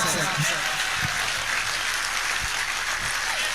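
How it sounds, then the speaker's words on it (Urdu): Crowd applause at a Hindi-Urdu poetry recital (kavi sammelan, mushaira): a dense, continuous wash of clapping from a large audience, broad and even throughout, with a few low thumps underneath. "اور تالی چاہتا ہوں میں آپ سے"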